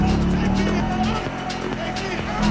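Engine of a car driven in a GTA-style driving simulator, a steady loud drone with shifting pitch throughout, the revving rising again at the end, with a voice talking over it.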